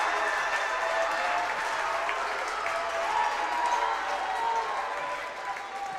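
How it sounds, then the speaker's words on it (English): Steady, sustained applause and crowd noise from Franklin fans after a rally in a men's high school volleyball match against Mount St. Joe, filling a gym for the full stretch. "That one gets applause from the Franklin fans after that rally."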